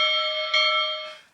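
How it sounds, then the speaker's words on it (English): The Trix HO Southern Pacific Berkshire model steam locomotive's DCC sound bell gives one steady ringing tone, close and clear, that holds for about a second before fading out, with no talking. "Got that little bell at the front"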